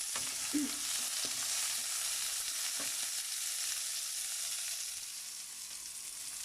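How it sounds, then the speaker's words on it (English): Chopped onions sizzle steadily in a hot pan, a constant bright crackle with a few soft scrapes of stirring near the start. "So can you hear the sizzling?"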